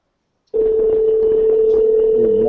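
A phone rings out on an outgoing call, a steady, loud, unbroken tone that starts abruptly after a short silence and holds to the end, with no talking over it.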